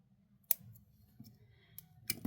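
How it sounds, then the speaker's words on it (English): Scissors snip excess thread close against a print bead during necklace beading, giving three separate sharp crisp cuts spaced over a couple of seconds, near and fairly quiet, with no talk. "Now we're going to snip this excess off. Right up against the print bead."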